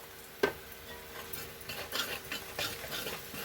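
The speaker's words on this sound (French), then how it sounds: "Je vais mélanger le tout." Butter chicken mixture with ginger and a spoonful of garam masala being stirred in a pot, a sharp clink near the start, then soft scraping strokes over a faint sizzle.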